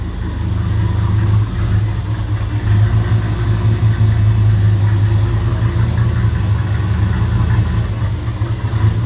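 Audi Quattro with a turbocharged VR5 engine and a J-pipe Helmholtz resonator exhaust idling, a steady low rumble that stays even and close throughout with no voices.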